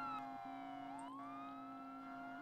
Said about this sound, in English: I can kinda hear their sirens.